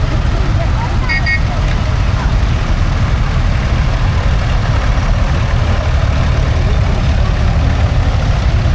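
Tractors idle together in a steady, close, continuous low rumble at a tractor parade during a steam and craft show at Netley Marsh.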